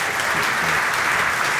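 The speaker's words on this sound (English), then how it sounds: "how about a round of applause?" A conference audience gives a round of applause for Tony Magee of Lagunitas at a brewing industry talk in Chicago, a continuous wash of many hands clapping at even loudness throughout.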